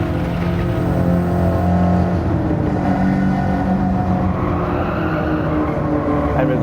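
A Nissan Silvia S14 engine accelerating hard out of S-bends in a racing video game, a loud, steady droning note that climbs and shifts in pitch throughout with no letup.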